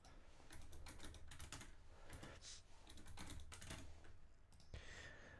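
Someone types a password on a computer keyboard in quick, uneven bursts of close, crisp key clicks with short pauses between, in an otherwise quiet room.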